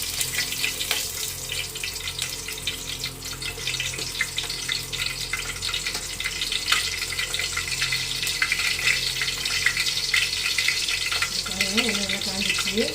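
Cooking oil poured into a clay pot for frying fish, a steady hiss-like pouring and trickling sound that runs continuously and evenly throughout, with no talk.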